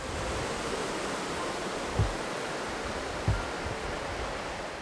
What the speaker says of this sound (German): die Bode plätschert glasklar